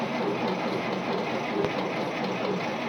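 A 1952 Dodge M37 3/4-ton 4x4 army truck runs with the choke on, its first time running in 50 years. It gives a constant rough rumble close by.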